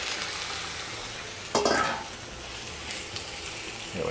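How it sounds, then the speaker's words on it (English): Shrimp sautéing in olive oil in a pan on an induction cooktop, a soft continuous sizzle that jumps louder for a moment as the shrimp go in, then settles. "Now we're going to saute our shrimp."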